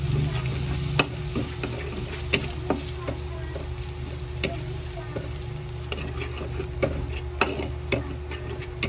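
Onion for adobo fries in a pan with a soft continuous sizzle, broken by scattered sharp taps and scrapes of a utensil stirring against the pan, close and fairly quiet.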